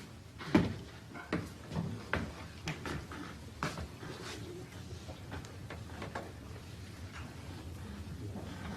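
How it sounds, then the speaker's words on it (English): An office door is pulled shut: a sharp thud followed by several softer knocks and bumps over a few seconds, then a quiet, low room hum. "Close that door."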